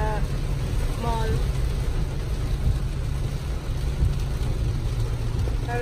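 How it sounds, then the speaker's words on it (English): Heavy rain pours down in a steady, dense roar that fills the whole stretch, loud and continuous, with faint voices and brief tonal sounds buried underneath. "That is raining, raining hard."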